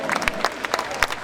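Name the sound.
audience applause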